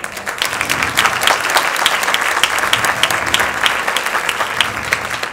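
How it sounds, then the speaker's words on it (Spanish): An audience at a laughing-contest comedy show applauds a contestant, with sustained dense clapping that holds steady for several seconds and a faint crowd murmur under it. "Aplausos para Pili Soy Yo."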